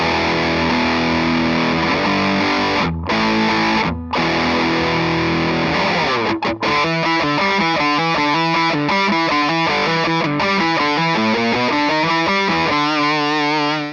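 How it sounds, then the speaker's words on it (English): An electric guitar played through a turbo distortion pedal into an amp gives a loud, honky, nasal, heavily saturated tone, with sustained chords, brief breaks, then a run of choppy, rhythmic riffing. "It's a very, very honky sort of pedal, like kind of nasal in a way, because you do want to use it in that turbo mode"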